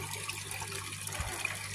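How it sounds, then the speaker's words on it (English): Fresh running water flowing into a koi pond, a steady soft trickle and splash with a low hum underneath, fairly quiet and continuous. "fresh running water"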